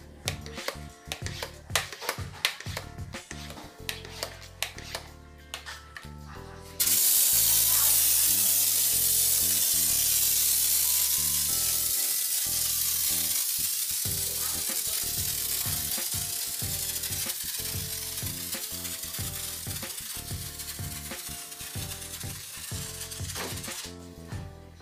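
An iK Foam 1.5 pump sprayer blasts Meguiar's Gold Class car shampoo as foam, a loud steady hiss that starts abruptly after a few seconds of clicks and handling noises and continues nearly to the end.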